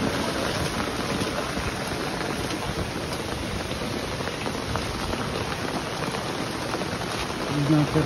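Steady, dense patter of rain falling on a surface, continuous and fairly loud throughout with no voices.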